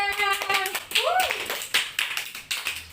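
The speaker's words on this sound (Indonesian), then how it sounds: "tepuk tangan buat kita semuanya" Classroom applause from a fourth-grade Indonesian class after a poetry-writing lesson: a short burst of hand claps with sharp, uneven taps, a voice speaking over the start.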